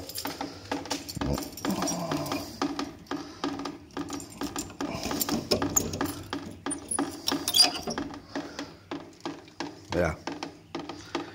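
Hot water pipes in a cellar knock and tick in irregular clusters of sharp mechanical clunks and clicks, with a person talking quietly in between.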